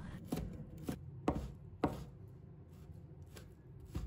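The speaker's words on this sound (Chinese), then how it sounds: "然后把它切成小块，尽量给它切小一点" Knife chopping pumpkin into small pieces on a cutting board, about seven sharp, separate strokes at an uneven pace, close and fairly quiet, with no one speaking.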